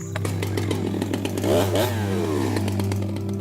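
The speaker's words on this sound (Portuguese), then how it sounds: "Assim que a motosserra é ligada" A chainsaw starts up and revs loudly to cut a giant tree along the Trans-Amazonian highway, its engine roaring close with a steady low drone, rising whine and rattling clatter.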